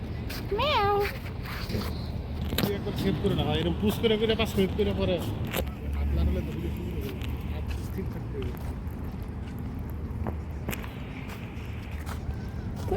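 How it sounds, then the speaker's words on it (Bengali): Cats gathered outdoors at dusk let out a few clear, rising meows near the start, followed by footsteps and rustling while a person talks over the scene. "এখানে অসংখ্য বিড়াল রয়েছে"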